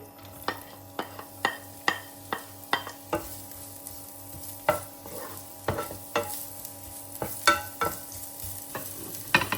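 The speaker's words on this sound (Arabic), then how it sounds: "حقلي أول شي حبة البصل بعد ما حمي الزيت عندي" Onion for chicken fajitas frying in hot oil in a pan, a steady crackling sizzle under a fast run of sharp utensil taps and scrapes, close and fairly loud, with a constant low hum in the background and no speech.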